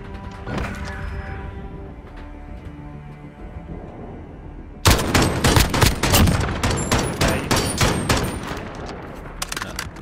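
Loud automatic gunfire in a Modern Warfare match, sustained bursts of rapid shots following quieter background sounds, with sharp impacts repeating in a steady rhythm.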